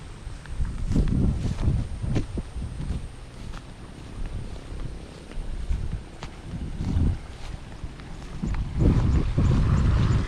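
Monsoon wind gusts steadily across a corn field, a loud rushing roar with buffeting against the microphone that swells and eases in waves, with no voices.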